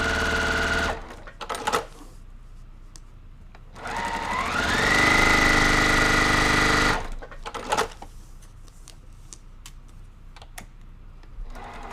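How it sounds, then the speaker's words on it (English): Home sewing machine running a short stitch length, a loud steady mechanical whir that rises in pitch and lasts about three seconds, framed by a few scattered clicks and quiet handling sounds. "sewing machine's not working"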